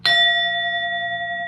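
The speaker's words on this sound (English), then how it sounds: "I always love ringing the bell." A single bell is struck once, giving a bright clear ring that holds a steady sustained tone and fades only slightly over a second and a half, alone with no voices.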